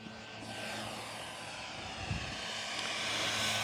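HobbyKing H-King Yak-11 1450mm RC model airplane flying overhead, a steady engine drone that swells slightly louder over a few seconds, heard outdoors with no talking.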